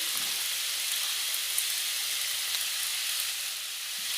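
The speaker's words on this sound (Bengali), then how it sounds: "ফুলকপিগুলো খুব ভালোভাবে লাল লাল করে ভেজে নেব" Cauliflower florets fry with salt and turmeric until browned, a steady hissing sizzle with a few soft crackles, slightly quieter toward the end, with no talking.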